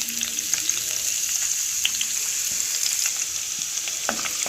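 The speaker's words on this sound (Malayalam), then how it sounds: "എണ്ണയൊന്ന് ചൂടായതിന് ശേഷം നമുക്ക് ഇതിലേക്ക് ഇഞ്ചിയും വെളുത്തുള്ളിയും ഇട്ട് കൊടുക്കാവേ" Ginger and garlic fry in hot coconut oil with a loud, close, steady sizzle and crackle, broken by occasional sharp pops and a few stirring sounds.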